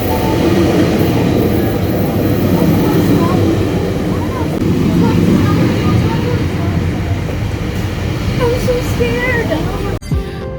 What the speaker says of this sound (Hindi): तो जी गो ट्रेन जो है वो आ चुकी है.